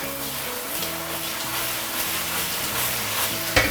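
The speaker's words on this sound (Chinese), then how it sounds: "快速的下入这个锅包肉，再来点这个葱丝、胡萝卜丝、香菜丝啊，一起给它下锅" Guobaorou, crispy fried pork, stir-fried in a wok over high heat with shreds of scallion, carrot and coriander, giving a steady loud sizzle with a brief sharp clatter near the end.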